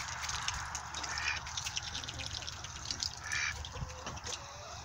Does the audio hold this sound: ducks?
yes